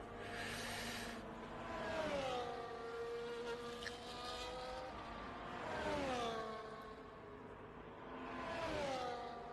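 A race car in a racing video game pulling out of the pits onto an out lap: repeated rising and falling engine whines as it runs through the gears, loud and steady, with no talk.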